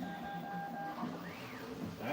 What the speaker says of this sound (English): So we are officially 3D printing now?